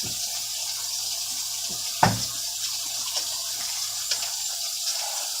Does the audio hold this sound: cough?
no